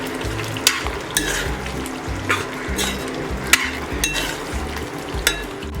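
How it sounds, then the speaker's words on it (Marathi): A vegetable curry in a pan is stirred and mixed, its steady frying sizzle broken by repeated spatula scrapes and knocks against the pan in an uneven rhythm, close and loud without talk. "भाजी पण आपली तयार होत आलेली आहे तर एकदम मिक्स करून घेते व्यवस्थित"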